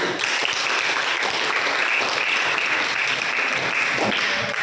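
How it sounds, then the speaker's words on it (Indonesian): Steady, dense applause from a classroom group after a student group's presentation on COVID-19 prevention, sustained and fairly loud throughout with no talking over it. "Tepuk tangan."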